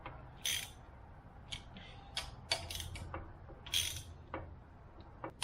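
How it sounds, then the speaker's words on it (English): Bolts being tightened on a boat engine, a sparse series of short metallic ratcheting clicks and ticks, close but fairly quiet, with no talking. "now I'm going to go ahead and finish tightening these bolts down"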